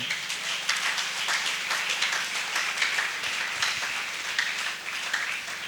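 A church congregation at a Sunday evangelical service applauds steadily, a dense wash of many hands clapping at moderate distance, continuous for several seconds without speech.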